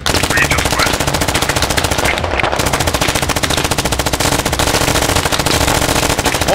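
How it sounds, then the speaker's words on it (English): Sustained, rapid automatic gunfire in the video game Squad, loud and close, continuous bursts filling the whole stretch with only a brief dip partway through. "We're getting shot from the west."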